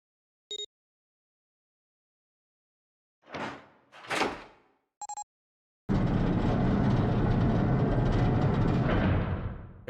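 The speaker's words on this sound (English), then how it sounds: "The door opened." A door opens in the visual novel game 999: Nine Hours, Nine Persons, Nine Doors, heard as a few short clicks and whooshing thumps followed by a loud, steady mechanical rumble that holds for several seconds and then fades.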